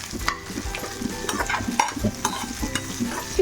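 Large ginger pieces frying in a pan for a homemade chutney, with a steady close sizzle and repeated clinks and scrapes of stirring running throughout, no voices.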